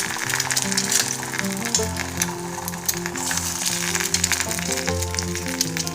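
Eggs fry in a pan for scrambled eggs, giving a steady, moderately loud sizzle that runs throughout beneath prominent background music.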